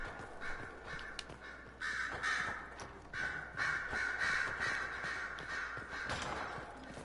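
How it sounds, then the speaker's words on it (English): Crows caw repeatedly in the video game Dragon Age Inquisition, harsh calls overlapping in an uneven rhythm over a steady outdoor ambience, moderately loud throughout. "Daggum birds."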